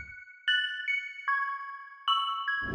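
A high-pitched synth melody from an Analog Lab chamber preset in Mike Fuego's bank, pitched up several octaves, with bright sustained tones stepping through a short phrase, alone and clean.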